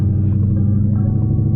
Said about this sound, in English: he got this car running pretty damn well